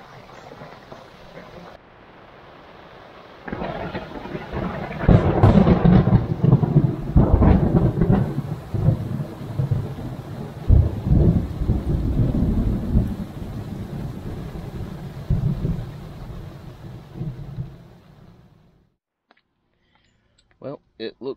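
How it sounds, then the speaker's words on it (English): Thunderstorm over a car-camping campsite by Lake Talquin, with heavy rolling thunder and steady rain drumming close for most of the stretch before fading to near silence, a few clicks at the end; a voice talks briefly early on. "maybe the storm will blow on through and get done"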